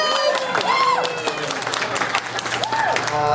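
Audience applause from a crowd at a Halloween Horror Nights presentation held at the Orlando History Center, steady dense clapping throughout with whistle-like cheers and a voice over it.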